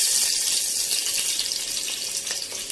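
Cumin and mustard seeds sizzle in lightly heated cooking oil, a steady, close, hissing crackle with a few small pops, heard alone without talk.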